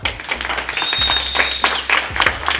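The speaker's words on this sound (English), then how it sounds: "Give yourselves a round of applause." Audience applause at a Teenview Magazine event, a short burst of steady clapping from a crowd with a faint whistle partway through.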